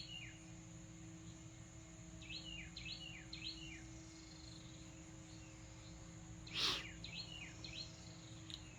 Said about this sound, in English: Birds seem happy this morning.